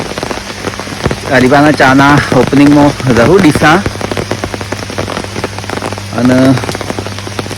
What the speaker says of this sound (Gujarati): જો મિત્રો વરસાદ રહે